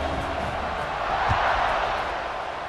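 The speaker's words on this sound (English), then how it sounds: "this crowd is buzzing after that last score" A stadium crowd hums and roars in a broad, steady wash after a score in a college football video game, swelling slightly midway, with faint scattered shouts.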